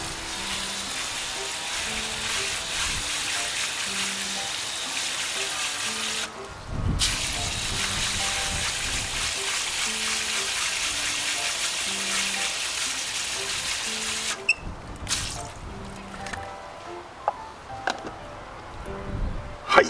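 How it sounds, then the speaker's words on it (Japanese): Tap water runs steadily over cleaned rusty screws in a sink, a constant close rush that carries on for most of the time before it shuts off and leaves a few small drips and clatters. "それでね、水で流します"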